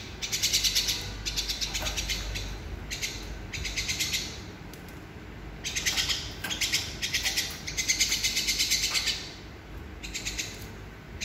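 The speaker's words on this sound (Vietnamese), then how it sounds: "Có em chim sáo này nè, nó to mồm nhất nè." A baby myna bird gives loud, repeated high-pitched begging calls in bursts close to the microphone, with a low background hum and rustle between calls.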